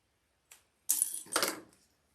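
Scissors make a tiny snip in fabric to mark the center while sewing, giving a faint tick and then two quick, crisp close-up cuts in an otherwise quiet room.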